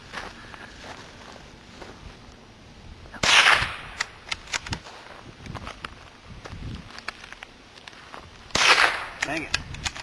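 Target-shooting gunshots: two loud, sharp cracks about five seconds apart stand out over scattered smaller knocks and clicks, with faint background talk between them.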